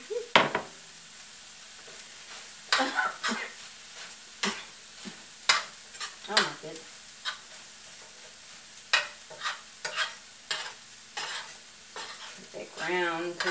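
Zucchini cooking in a pan on the stove makes a soft sizzle under repeated sharp scrapes and clacks of a utensil stirring against the pan, irregular and close, with no talking.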